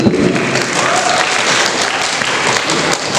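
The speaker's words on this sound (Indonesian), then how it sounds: "Tepuk tangan." Audience applause at a workshop and book launch, a loud, continuous crowd clapping heard close by without a break.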